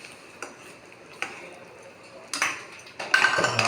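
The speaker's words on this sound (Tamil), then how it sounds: "இப்போ நல்லா கிண்டிக்கலாம்." A sweet with ghee stirred in a pan with a spoon, sparse metallic taps and clinks that grow into brisker scraping toward the end, close and fairly quiet.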